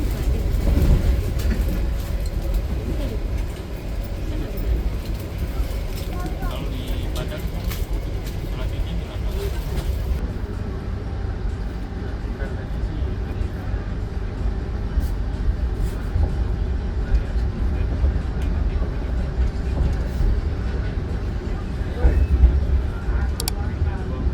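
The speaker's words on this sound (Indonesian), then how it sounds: "keretanya sudah dipacu dengan kecepatan tinggi" An Argo Cirebon passenger train running at high speed after leaving Haurgelis, a steady loud rumble and rattle from inside the carriage lasting throughout, with talk over it.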